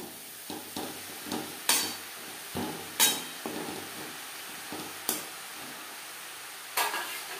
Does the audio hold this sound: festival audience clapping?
no